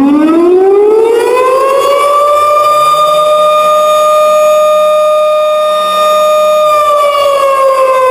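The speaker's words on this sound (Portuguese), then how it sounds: "E as sirenes começam a tocar" A civil defense siren wails loudly and steadily, rising in pitch at the start and falling away at the end, with a second lower tone sounding partway through.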